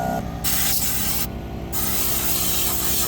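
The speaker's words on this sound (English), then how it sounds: "we're using an air compressor" A loud, continuous hiss of air blown from an air compressor during a van build fills the clip, dipping briefly twice as the airflow cuts in and out, close up.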